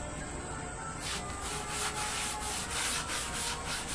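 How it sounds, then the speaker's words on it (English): Steel wool scuffs along the grain of polyurethane-coated wood on a pedalboard build, making a close, rhythmic rubbing hiss in repeated strokes. "Then we take some steel wool"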